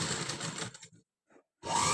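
A sewing machine stitches along a boat-neck blouse neckline in short, close bursts of whirring, broken by a brief pause.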